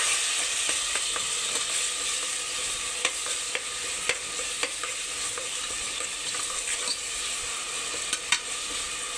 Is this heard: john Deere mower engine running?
no